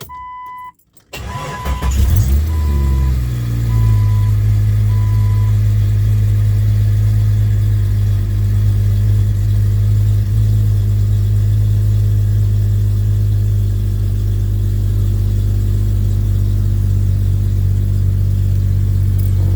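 A Jeep 4.0 engine fitted with a 62mm throttle body cranks and fires up after a short pause, then settles into a steady, loud, close idle that holds evenly with no revving.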